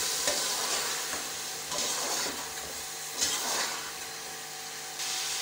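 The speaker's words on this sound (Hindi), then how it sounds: "इसको भी हल्का सा भूनेंगे हम" Tomatoes frying in a pan while cooking mutton mandi, a steady sizzle with stirring scrapes in several bursts. The sound is moderately close and heard alone, with no voices.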